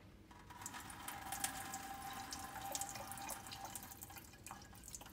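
Water from a sink faucet pours over a potted phalaenopsis orchid, a steady close trickle and splash with scattered drips running throughout.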